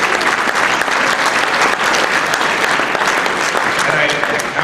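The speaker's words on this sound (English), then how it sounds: "Congressman Chris Smith deserves a round of applause" An audience at a pro-life event applauds Congressman Chris Smith, loud sustained clapping from a large crowd, dense and even throughout with a faint murmur beneath.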